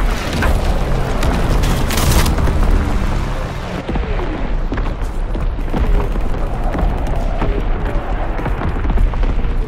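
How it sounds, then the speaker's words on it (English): Mortar explosions in Call of Duty WWII, rolling into a dense, continuous barrage of heavy booms and rumbling impacts, loud and close throughout. "Mortar shot out, sweeping the zone."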